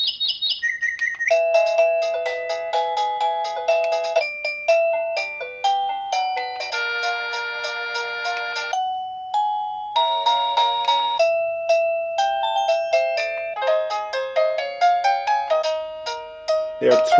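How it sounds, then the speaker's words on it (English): An XREXS digital wall clock plays its alarm ringtones: bright electronic melodies in quick beeping notes and chime patterns, one tune after another, loud and close with short pauses between them. "I'm going to show you all the ringtones that it's got. It's got 25 ringtones for the alarm."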